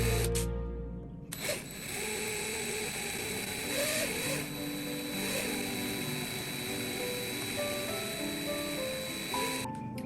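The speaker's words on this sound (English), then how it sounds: "Now that I've drilled it out" A power drill whines steadily and fairly faintly while drilling out a bolt during disassembly, its sustained tonal motor hum continuing for most of the clip after a brief quiet start.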